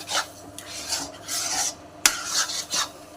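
A spoon rasps and scrapes through a thick bread barfi mixture as cardamom powder is stirred in, making several close, gritty strokes with a sharp knock partway through.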